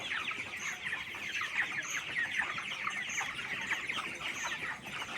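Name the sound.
24-day-old farm chickens clucking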